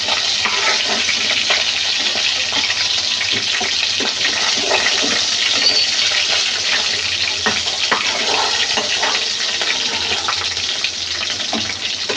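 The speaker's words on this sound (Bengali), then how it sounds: "মাছ আর যেগুলো আছে এগুলো ভালো করে ভেজে নেব।" Katla fish pieces frying in a pan give a constant close, dense sizzle and crackle with occasional stirring clicks, steady for the whole stretch with no talk.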